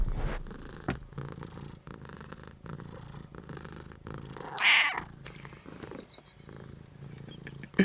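A cat purrs in a steady, low, continuous rumble close by, with a short brighter rustle near the middle and no talking over it.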